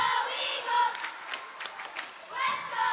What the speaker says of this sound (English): The timeouts may be the time to turn it down a little bit because the crowd has come alive.